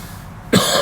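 A single close, sharp cough bursts out of near silence, followed by a short rough tail.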